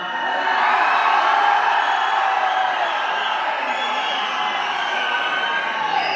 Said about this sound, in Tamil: இங்க இருந்து அங்க இருந்து கை தட்டிட்டு விசில் அடிச்சிட்டு இருக்கிற நீங்கெல்லாம்